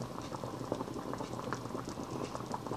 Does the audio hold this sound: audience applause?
no